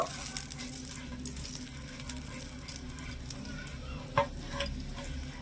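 A little oil is spread around a hot, slightly smoking frying pan for thin chakli pitha, giving a faint, soft sizzle with light scraping and one sharp click near the end.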